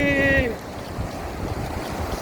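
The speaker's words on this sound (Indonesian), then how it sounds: "ini ombak ya" Ocean waves at Pangandaran beach wash steadily over a continuous broadband roar, with wind buffeting the microphone; a short high whistle or squeal sounds at the very start and then fades.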